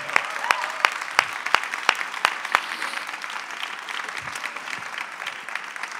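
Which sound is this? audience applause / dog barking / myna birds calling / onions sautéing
audience applause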